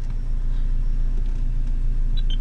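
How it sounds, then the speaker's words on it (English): Renault Megane Cup 250 idling with sport mode engaged and the exhaust opened, a steady low engine rumble running close and alone throughout. "opens up the exhaust, so you start getting more pops and cracks and more power as well"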